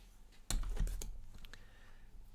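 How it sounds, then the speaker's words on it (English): Computer keyboard typing, with a quick run of close, crisp key clicks that starts abruptly and then thins out into a few scattered taps in a quiet room. "Mostly because my keyboard sounds like this."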